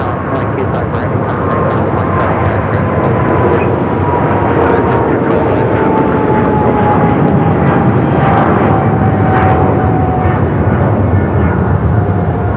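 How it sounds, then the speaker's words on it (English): An Eva Air Boeing 777-300ER heavy jet takes off for Taipei at LAX, its engines producing a loud, steady roar with a slowly falling whine that holds for the whole stretch. "This is Eva Air Flight 5 taking off to Taipei on the 777-300ER"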